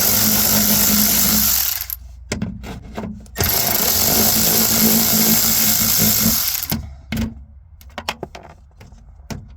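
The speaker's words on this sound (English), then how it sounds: "Now let's get these side bolts out." A power tool drives out side bolts in a 1970 AMC Gremlin interior, two long loud whirring bursts split by short bright clicks and handling knocks, recorded close up with no talk.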